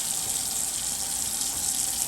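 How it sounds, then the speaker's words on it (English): Cool tap water runs steadily into a sink over potatoes being rinsed, with a continuous hissing splash, close by, no voices. "we're going to rinse these off with cool water to stop the cooking"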